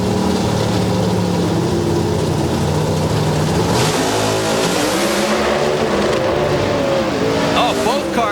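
Pro Stock drag cars launching at NHRA Bristol, a loud engine roar that shifts pitch midway as the revs rise and fall, with an announcer talking over it.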